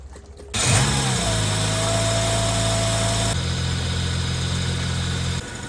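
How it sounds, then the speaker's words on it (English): A Holden VS ute with 500,000 km on it starts up and settles into a steady idle, its engine humming loud and close with an even drone throughout. "Just letting it idle so I can get all the bubbles out."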